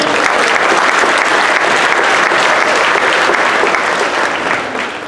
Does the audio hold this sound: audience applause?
yes